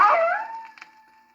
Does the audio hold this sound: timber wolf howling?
yes